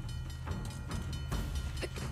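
A train rolling along in Uncharted: The Lost Legacy, a steady loud rumble with faint rhythmic rattling and clatter running the whole time, no voices.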